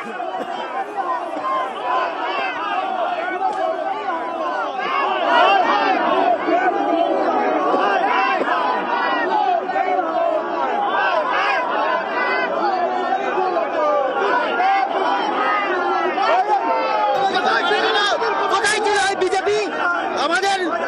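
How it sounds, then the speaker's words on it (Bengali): A dense crowd outside the CEO office shouting slogans and counter-slogans, many voices overlapping in loud, continuous chanting and clamor, close and unbroken throughout. "সিইও দপ্তরের সামনে স্লোগান পাল্টা স্লোগান"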